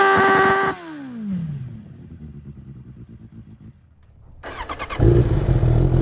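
A Suzuki Bandit 600 motorcycle engine cranks and catches, settles into a rough, fluttering idle, then opens up into a loud, sustained rev.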